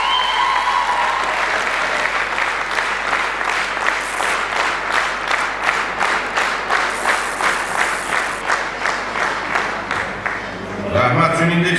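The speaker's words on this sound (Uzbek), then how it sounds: "Ularga ham olqishlab qo'ydik do'stlar" Audience at a district Culture and Arts Workers' Day concert applauds two school directors, a dense, steady wash of many hands clapping for about ten seconds before fading, with voices rising at the end.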